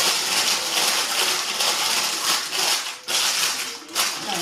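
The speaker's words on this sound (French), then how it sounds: "je vais prendre une feuille de cuisson," Sheet of parchment baking paper scrunched and pressed into a cake mould, steady close crinkling and crackling with short dips near the end, no talking.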